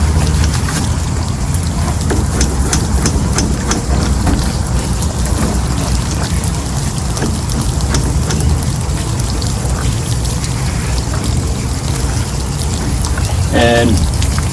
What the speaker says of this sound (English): I'm giving a good rinse up top.